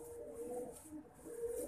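A pigeon coos in low, soft repeated murmurs, faint and steady against a hissy background, with no voices.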